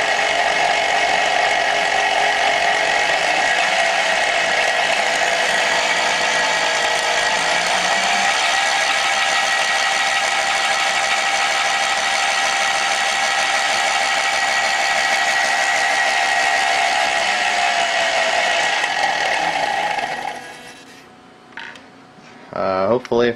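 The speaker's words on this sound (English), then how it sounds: "as you drop the field current can get more RPM out of the motor." An alternator rewired to run as an electric motor spins steadily with a loud, continuous high whine whose pitch shifts slightly partway through, then it winds down and stops near the end.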